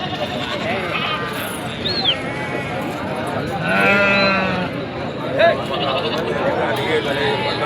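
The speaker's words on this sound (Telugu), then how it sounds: "గొర్రెల సంత" Sheep bleat at a busy sheep market, with several bleats rising over a constant crowd murmur and general livestock commotion; one longer, louder bleat stands out near the middle.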